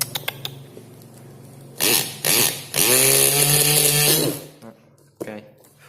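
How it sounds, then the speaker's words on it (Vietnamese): A homemade mini 12V hand drill runs in several short whirring bursts and then one longer steady whine as it drills a hole in plastic. Faint handling clicks come before and after the runs. "sẽ khoan thử một lỗ nữa trên đây"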